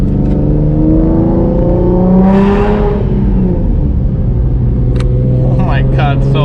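Loud Nissan 350Z engine revving up with a rising whine, then holding a steady, close drone while a person talks over it.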